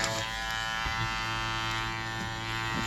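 Electric hair clippers buzz steadily and loudly after a cooling spray, a continuous close-up drone with a dense harmonic hum that barely shifts across the whole stretch, with no talking.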